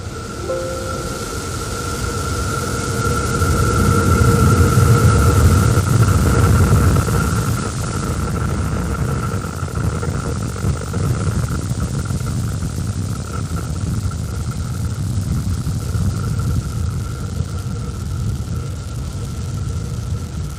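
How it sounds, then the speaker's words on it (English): SpaceX Starship SN11's rocket engines roar through liftoff at Starbase in South Texas, a continuous, dense, heavy rumble that stays loud and steady throughout, heard from a distance with no voices. "Starship test vehicle number 11 ascending over Starbase in South Texas"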